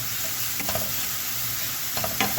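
Onions and garlic being stirred in a sizzling pan, a loud continuous frying hiss with soft scraping strokes of the spoon, close and steady with no talking.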